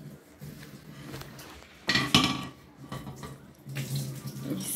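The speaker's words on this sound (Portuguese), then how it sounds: "O Henrique lavando a louça, ajudando a mamãe." A boy washes dishes at a running sink. Tap water streams and splashes under soft clinks of crockery, with a loud burst of splashing about midway and steadier running water toward the end.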